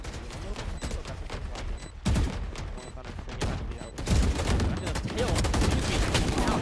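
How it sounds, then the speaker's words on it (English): Rapid gunfire bursts from the video game Valorant during a collegiate esports match, with dense automatic fire and sharp shots repeating in clusters throughout. A caster's voice sits under the shooting. "Gunfire breaking out."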